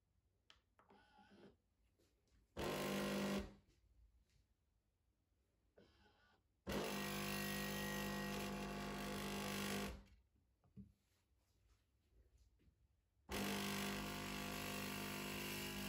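A KitchenAid Artisan espresso machine pumps out a double espresso in three loud buzzing bursts, with quiet gaps between them, close and alone.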